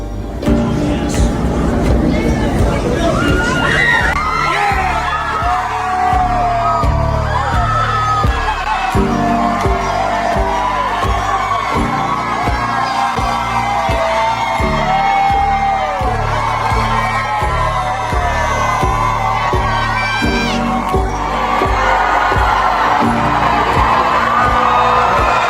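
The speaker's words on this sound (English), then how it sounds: "you hear people cheering outside the courthouse" A crowd outside a courthouse cheers and whoops after a not guilty verdict in the Karen Read case, loud overlapping shouts and cheers mixed with a strong rhythmic music bed and bangs, continuing throughout at high volume.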